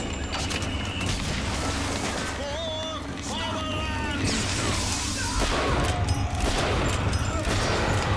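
Gunfire from Bioshock Infinite gameplay: a sustained barrage of shots and crashing impacts layered over game effects, loud and continuous, with a voice talking over it.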